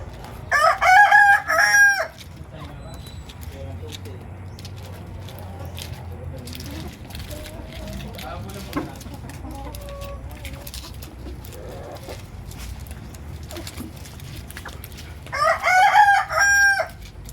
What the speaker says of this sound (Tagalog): kinakain ng manok namin yung insulin plants